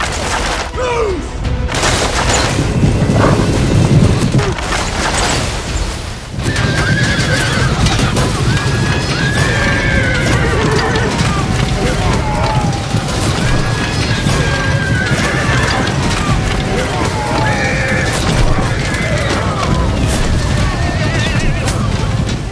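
Warhorses neigh and whinny repeatedly in a battle on a muddy field as French mounted knights charge at Agincourt in 1415, with clopping hooves, booming impacts and a dense, loud clamour that continues throughout.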